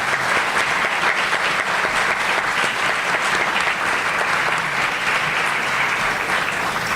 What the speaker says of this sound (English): Can we have a round of applause for this panel?